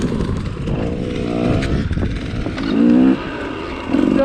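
A 1974 Husqvarna 250WR two-stroke motorcycle engine snarls steadily while being ridden, loud and close, with throttle swells and rising revs toward the end.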